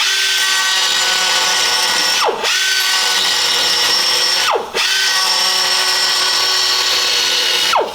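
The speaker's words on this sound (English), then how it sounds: "I put a bevel around where this pipe will come through" An electric power tool, likely a grinder, bevels the edge of German Wespe steel armour plate for welding, a loud continuous high whine close by, broken by three brief dips and spin-ups.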